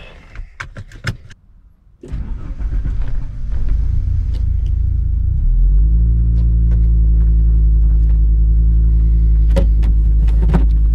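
A renovated Audi 200 Quattro Turbo cranks over after some clicks and handling noises, catches and settles into a loud, steady, deep idle up close, with faint rattles on top.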